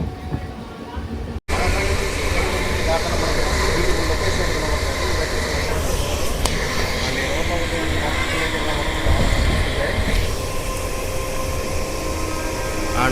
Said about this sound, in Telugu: మన ట్రైన్ కూడా స్పీడ్ కూడా చూడండి కొట్టి పడేస్తున్నాడు